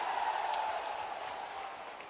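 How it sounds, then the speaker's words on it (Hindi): Crowd applause at a public gathering in Pichhore, Shivpuri district, a dense steady wash of clapping that holds fairly level and fades slightly toward the end, with no voices on top. "पिछोर की ताली बजा दो एक बार"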